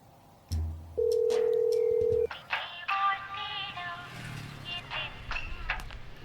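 A phone call is placed, with a short key tone followed by a long steady dial or ringback tone, then a few fainter beeps and background clatter as the line connects.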